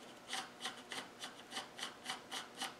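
Quiet, dry, unoiled gears of a good Land Rover LT230 centre differential turning with a steady rhythmic rasping, a soft grinding scrape repeating about three times a second.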